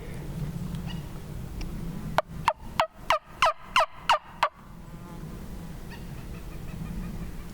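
A wild turkey gobbles in a rapid burst of about eight sharp, rattling notes, loud and fairly close, over quiet outdoor background noise.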